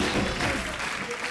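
An audience applauding to welcome Jamie Lever onto a television show stage, a brief burst of dense, steady clapping filling the room.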